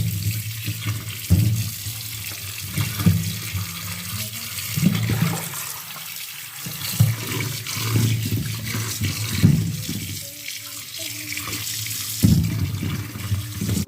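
Sweet potatoes are washed under a running kitchen tap, with steady gushing water broken by splashes and rubbing sounds as the dirt is scrubbed off, close and without speech.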